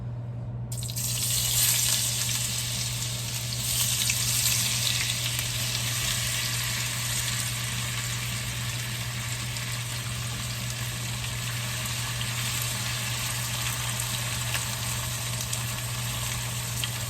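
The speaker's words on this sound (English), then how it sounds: "Are y'all ready to hear it sizzle?" A loud, steady sizzle of breakfast potatoes frying in a pan starts abruptly and holds constant throughout, with a low background hum.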